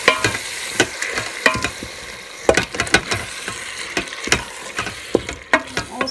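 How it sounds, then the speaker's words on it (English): Tomatoes being stirred into chili inside a Cosori pressure cooker pot, with a quick series of scraping, clacking spoon strokes over a faint sizzle, close and busy with no talking. "Stir that up."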